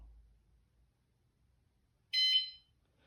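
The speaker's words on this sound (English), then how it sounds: "wait for the confirmation beep" An anti-theft bike alarm gives a single short, high-pitched confirmation beep when armed, sounding alone in near silence after a faint low rumble.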